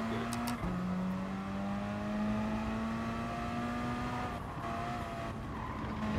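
Race car in Gran Turismo Sport braking into a turn, steady engine drone with a sustained tire squeal, moderately loud and up close, no talk.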